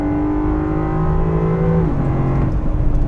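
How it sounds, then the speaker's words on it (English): A 2022 Land Rover Defender 90 V8 driving on the road gives a steady, rumbling engine note from inside the cabin, rising in pitch and then dropping with a gear shift partway through. "All right, driving the new V8 Defender,"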